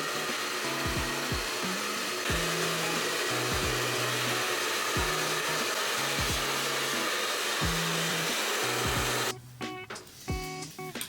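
A hair dryer blows steadily on box braids for about nine seconds, a constant whooshing roar with a low warbling hum, then cuts off abruptly, leaving a few faint clicks and handling sounds.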